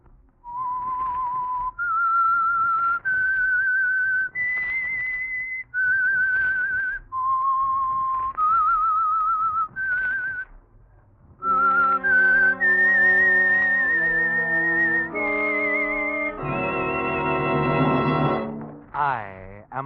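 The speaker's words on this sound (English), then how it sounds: "That whistle is your signal for the Signal Oil program" A lone whistler performs the eerie theme melody of the old CBS radio mystery program The Whistler, clear sustained notes stepping up and down, then joined by a swelling orchestral chord near the end.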